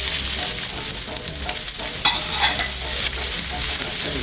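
Peppers and onions with broken-up kielbasa sizzle steadily in a hot pan, a dense continuous crackle with occasional stirring scrapes and no talk.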